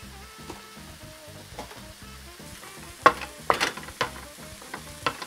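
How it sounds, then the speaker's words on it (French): Steady sizzling of mushrooms and leeks frying in a pan, with a few louder crackles and pops toward the end. "ça grésille"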